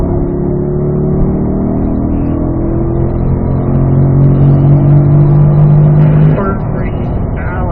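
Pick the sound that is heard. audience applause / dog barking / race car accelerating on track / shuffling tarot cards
race car accelerating on track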